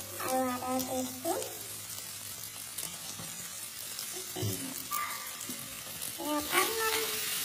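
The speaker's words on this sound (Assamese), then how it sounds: "বাটাৰখিনি মেল্ট হোৱাৰ পাছত ইয়াত মই দি দিম নহৰু আৰু আদাৰ পেষ্টটো।" Garlic and ginger paste hits melted butter in a pan with a sizzle that comes in short bursts, joined by scraping stirs and clattering utensil sounds, all close by.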